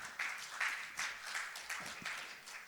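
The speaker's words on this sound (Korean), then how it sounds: "큰 박수 부탁드립니다." Applause from a lecture audience welcoming a speaker, steady broadband clapping with small swells, fairly quiet and distant-sounding, no talking.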